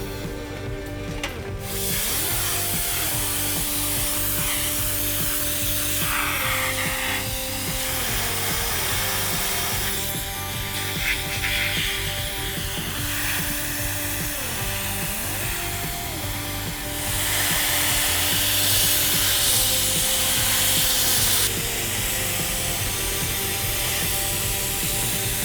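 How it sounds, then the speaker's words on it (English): Sandblasting a 1960s Indy go-kart frame during restoration: a steady, loud hissing blast of abrasive that runs continuously under an engine-like drone, swelling and easing as the nozzle moves, with no talk. "So we just finished sandblasting."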